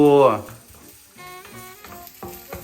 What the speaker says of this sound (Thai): ผัดให้หอมนะคะ เอาคน คนนะคะ